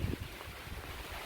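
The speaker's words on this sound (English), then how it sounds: "it's windy, and it's only raining a little bit right now" Wind and light rain at a house construction site in the Philippines, a brief low, broadband rush with gusty buffeting against the microphone, no voices.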